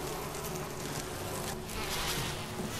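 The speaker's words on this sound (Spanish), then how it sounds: "este insecticida sirve quizás para despejar esta zona de las avispas estas" Wasps swarm around a nest in the PS3 game Resident Evil HD Remaster, a dense, continuous insect buzz with swelling and fading drones over a low background rumble, no voices.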